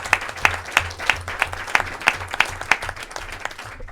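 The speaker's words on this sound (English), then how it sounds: "Let's give them a round of applause." Audience applause at a government announcement event, with evenly spaced claps ringing out steadily for several seconds and nobody speaking over them.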